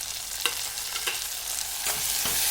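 Onion and tomato fry in oil in a pan with a steady, close sizzle, broken by a few soft stirring scrapes; no talking.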